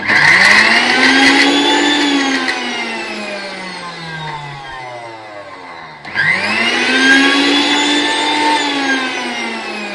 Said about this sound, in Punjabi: ਗੁਲਾਬ ਜਲ ਤੇ ਇਹਨੂੰ ਆਪਾਂ ਮਿਕਸੀ ਦੇ ਵਿੱਚ ਮਿਕਸ ਕਰ ਲੈਣਾ